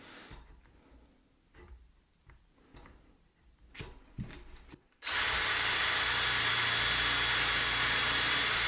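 A power drill drives screws into a wooden mitre saw stand. Faint knocks and handling sounds come first, then the drill starts with a loud, steady, close whir that runs to the end.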